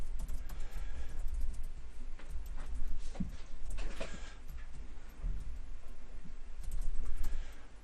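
Typing on a computer keyboard while writing code, a steady run of quick, light key clicks with a few louder taps, close by over a low background hum.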